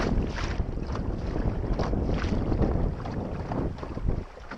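A sailboat heeling under sail with a dog named Layla aboard, steady wind buffeting the microphone over water rushing along the hull, loud and close throughout with no talk.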